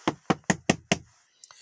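Loud knocking on a door: five heavy, evenly spaced raps in quick succession, then a pause and one faint final tap, close and clear with no talking.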